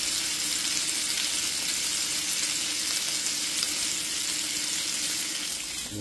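Morel mushrooms sizzle in browned butter in a pan, a steady close crackling hiss with no talk.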